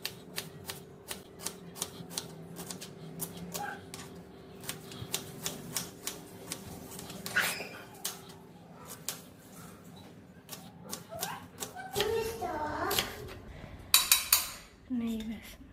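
Ingredients for mushroom biryani being chopped with a knife on a board, a rapid series of sharp close taps with a few pauses, while someone talks over the work and utensils clink near the end.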